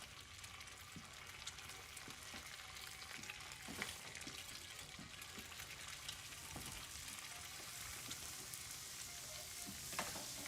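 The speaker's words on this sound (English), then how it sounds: "Is it going to be the kid cooking the bacon?" Bacon fries in a pan, giving a steady faint crackling sizzle with scattered pops and a soft stirring texture throughout.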